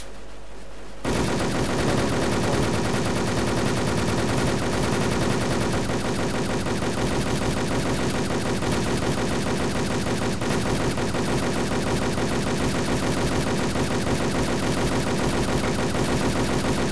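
After a brief silence, rapid, relentless automatic gunfire in the video game Wolfteam erupts and continues nonstop, loud and dense, with a few heavier bursts layered in.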